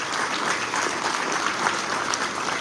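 Audience applause during a mayor's State of the City address in Atlantic City, steady and dense clapping from a large crowd that holds at an even level throughout.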